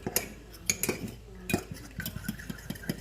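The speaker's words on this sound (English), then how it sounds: "I'm just going to take a fork and just give it a little whisk up." A fork whisks a cornstarch mixture in a dish for egg rolls, giving quick irregular clinks and taps of metal against the bowl, close and fairly quiet.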